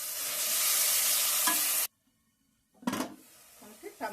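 Tomato paste frying in a pan for an eggplant and egg curry, a loud bright sizzle that cuts off abruptly, then after a pause returns with spatula scrapes and clatter, close by.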